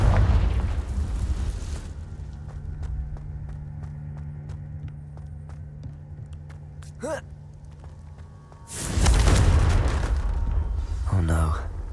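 Confringo fire spell from Hogwarts Legacy, a short whooshing burst followed by a heavy explosive boom and rumble near the end, with game ambience and footsteps earlier.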